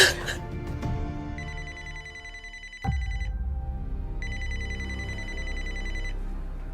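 A telephone ringing while a call is placed to the police: two long electronic ring bursts separated by a pause, clear and steady over a low background drone.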